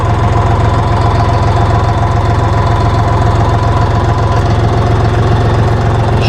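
A DongFeng 244DG2 mini tractor engine runs steadily and loudly at close range, a continuous low rumble with a dense mechanical rattle throughout and no pauses.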